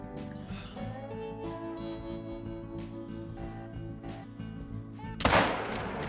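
A single 45-70 rifle shot at a ram in theHunter: Call of the Wild, one sharp loud crack near the end after a stretch of quiet game ambience.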